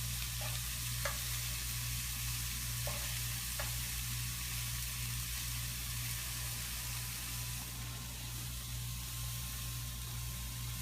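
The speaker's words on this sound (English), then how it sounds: "now that we've got our meatballs in the pan, they're kind of browned up" Turkey meatballs browning in a frying pan, a steady even sizzle over a constant low hum, with a few soft taps early on.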